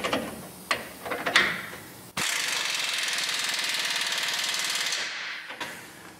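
Bolts on a Ford F-series front strut assembly being driven and torqued, a few short clicks followed by a sustained loud mechanical rattling burst of about three seconds that stops abruptly, close up and with no talking.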